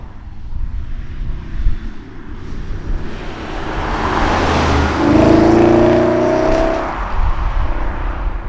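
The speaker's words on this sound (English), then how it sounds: "we'll give Toby a little flyby, see what this V8 is sounding like" A V8 Jaguar XK in sport mode sweeps past, its engine note rising as it approaches and peaking around the midpoint with a strong tonal roar, then fading away. No one speaks.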